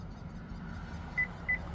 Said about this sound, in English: until we hear that double beep